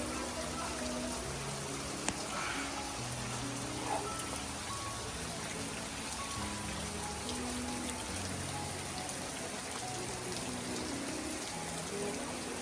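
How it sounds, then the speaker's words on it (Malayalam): Water seeps and trickles down the rock inside Sahastradhara cave near Dehradun, a steady soft patter of drips with no rain outside, faint and continuous with no talking. "മൊത്തം ഇങ്ങനെ വെള്ളം ഊർന്നിറങ്ങുന്നുണ്ട്"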